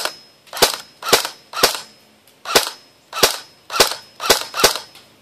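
Matrix X36C airsoft gun, lipo-ready custom build, firing BBs in nine sharp semi-automatic shots at uneven intervals, each a loud crisp crack with a short tail, no talking.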